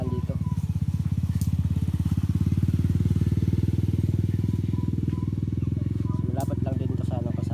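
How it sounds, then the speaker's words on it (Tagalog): Motorcycle engines drone steadily close by for the whole stretch, a continuous low rumble of bikes passing near a roadside transport stop, with faint voices in the background. "May mga motor rin na dumadaan dito."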